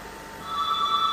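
A telephone rings with a steady electronic warble that swells in loudness partway through, sounding alone without any talk.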